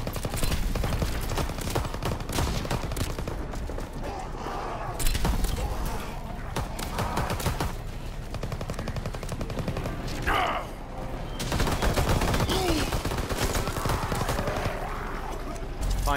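Loud, dense gunfire from Call of Duty WWII zombies mode, rapid automatic bursts and sharp shots hammering almost without pause, with occasional booms and crashes mixed into the chaotic game soundscape.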